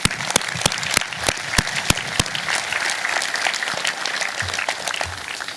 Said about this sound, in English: I would like to show my appreciation for you with another round of applause.